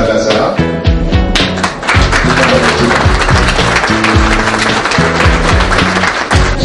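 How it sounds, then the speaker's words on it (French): Sustained applause from an audience at an exhibition opening for a guest of honour, a dense, loud clapping throughout, with music playing beneath it. "Que l'on couvre d'applaudissements, bien sûr."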